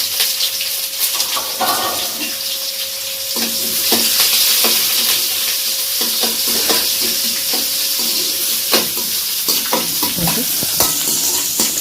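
Loud, steady sizzling of sliced large onions frying in hot oil, with a spoon scraping and stirring the pan now and then.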